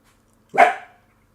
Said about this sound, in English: You got a dog.